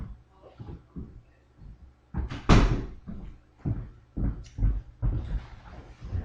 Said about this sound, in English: I'm going to close the door so we don't get the noise.